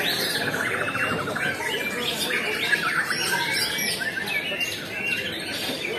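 Songbirds chirp and warble continuously at a busy bird-singing contest, several birds overlapping in bright, dense trills above a steady crowd murmur.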